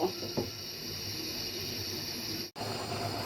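A pot of shapla cooked with coconut curry coming to a boil, a steady, close broadband hiss with soft bubbling that continues evenly, broken once by a brief dropout.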